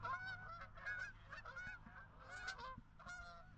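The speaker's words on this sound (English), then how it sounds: "Those are geese, actually." A flock of geese flying in formation honking repeatedly, overlapping calls in bursts, moderately distant and clear.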